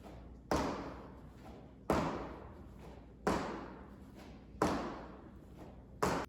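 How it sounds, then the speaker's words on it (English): Five vertical jumps landing on a gym floor during a CrossFit warmup, heavy thuds at a steady pace of roughly one every one and a half seconds, each landing followed by a short decaying rumble, no talking. "Last thing is 5 vertical jumps."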